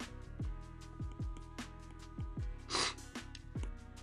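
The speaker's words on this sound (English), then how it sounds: "Oh, the sniffles are killing me." A person with a cold sniffles repeatedly in short bursts, roughly every half second to second, close to the microphone while drawing lettering indoors, with one breathy hiss in the middle and no talking.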